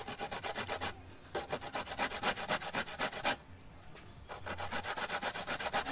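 Fresh coconut rubbed against a hand grater for a Jamaican Sunday dinner cooked outdoors, producing quick rhythmic rasping strokes in steady bursts separated by short pauses, close and fairly loud with no talking.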